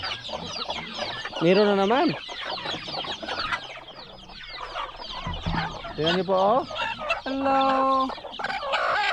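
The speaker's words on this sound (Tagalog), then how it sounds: "Ang nakarang araw po, may bagong sisiw tayo na nakuha." Hens and newly hatched chicks on a small farm cluck and cheep close by. A rooster crows several times, and someone speaks over the birds.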